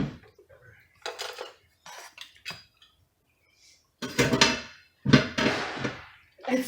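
Dishes, pots and cutlery clattering in a home kitchen while dinner is prepared, with short scattered clinks early on and louder, denser bursts of clanking near the end.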